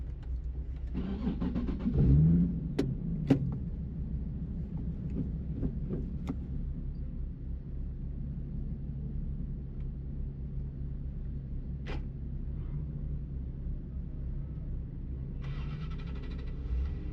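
Cars on an autocross parade lap at The Podium Club pull away one after another, a steady mid-pitched engine rumble with a few sharper revs early on, heard from nearby without talk.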